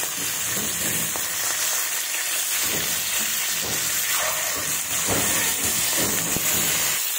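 Fish pieces fry in hot oil in a kadai with a loud, continuous crackling sizzle and hiss, with bursts of spattering throughout.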